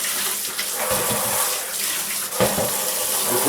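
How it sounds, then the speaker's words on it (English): Water running steadily from a tap into a bowl, a close, continuous splashing rush with a brief shift in flow midway. "and put some water in there"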